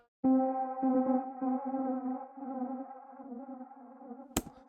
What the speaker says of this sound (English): which almost sounds like bees or something, and that's ping-ponging from left to right as well.